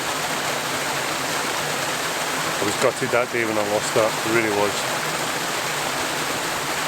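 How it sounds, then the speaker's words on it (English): A small trail waterfall runs low, giving a steady broadband rush of falling water throughout, with a person talking briefly over it in the middle. "Right, so this waterfall here, it's really small."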